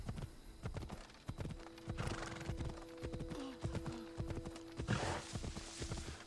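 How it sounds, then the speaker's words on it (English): Horse hooves trot in a steady clip-clop in Assassin's Creed Odyssey, close and continuous over game music, with a brief neigh partway through. "Come on, Horsey. We gotta get somewhere."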